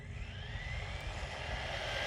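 An RC mini basher car runs at full throttle, its small electric motor giving a steady high-pitched whine with broadband road and tire noise throughout, loud and continuous with no talking.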